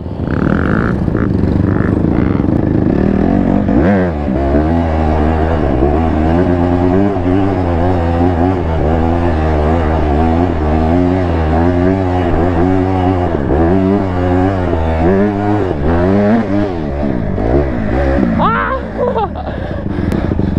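Motorcycles rev hard during a wheelie competition, loud engine tones rising and falling as riders accelerate nearby, with strong harmonic sweeps lasting throughout.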